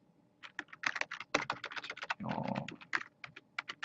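Someone types on a computer keyboard while filling in a sign-up form, giving rapid close key clicks in uneven bursts with a brief heavier clatter midway and no talking.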